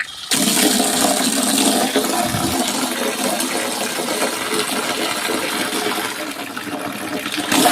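A terrace water tap, turned on for watering plants, bursts into a strong gushing flow after a brief quiet start, then runs steadily and loudly close by.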